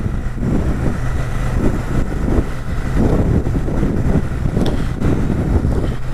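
A Royal Enfield 650 Shotgun motorcycle cruising in third gear at roughly 30 mph, its engine a steady low rumble under heavy wind buffeting on the microphone, with no speech.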